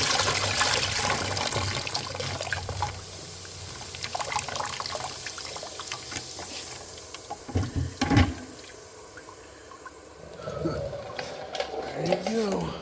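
Dirty liquid drains and gurgles out of an old battery being refurbished, a faint trickling and sloshing with a few louder splashes and knocks near the end, low in level.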